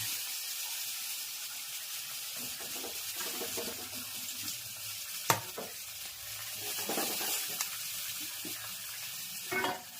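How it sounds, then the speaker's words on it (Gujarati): Oil sizzling steadily with a bright, continuous hiss as curry leaves and patra (colocasia leaf rolls) are tempered, with a few clinks and stirring sounds now and then. "સરસ મજાનો પાતરાનો વઘાર થઈ ગયો છે"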